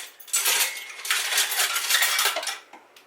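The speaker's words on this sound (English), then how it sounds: "I usually take my beaters and just kind of mash it up a little bit" Metal hand-mixer beaters clanking and scraping against a bowl while breaking up cooked potatoes for mashing, a busy rattle of several close, bright knocks lasting a few seconds.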